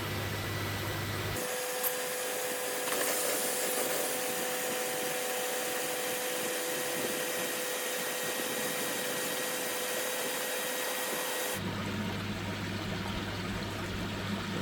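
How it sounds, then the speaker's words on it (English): A wet vacuum cleaning out a Nexus filter runs continuously with a loud, steady whooshing roar and a faint whine, starting and stopping abruptly at the edges. "you'll have to excuse the vacuum noise"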